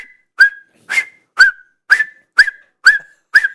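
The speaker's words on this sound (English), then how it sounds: "how about a whistle, Podu? Come on." A person whistles seven short, loud, rising notes at an even pace, with clean silence between each one.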